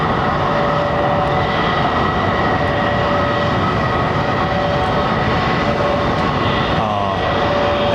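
Airbus A321neo jet engines at Heathrow airport roar in a loud, steady, continuous drone close by, holding an even level throughout with a faint tonal whine riding over the broadband rumble.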